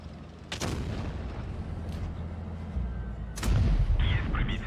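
In the World of Tanks Blitz video game, while driving a Progetto 46 tank, cannon shots boom sharply twice, close and heavy, over the steady rumble of a tank engine.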